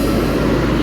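A Gunung Harta intercity bus with a Volvo engine pulls into Poris bus terminal, its engine a steady loud low rumble heard up close throughout.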